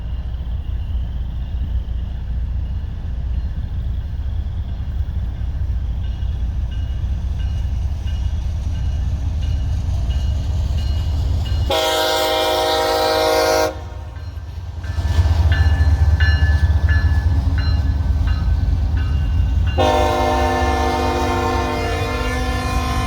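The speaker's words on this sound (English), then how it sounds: "I think a train is coming." A loud train rumbles steadily close by, its horn blaring in two long blasts with a brief gap between them.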